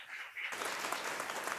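An audience at an Onam celebration breaks into applause welcoming Maveli, a short burst of many hands clapping at moderate distance after a brief murmur.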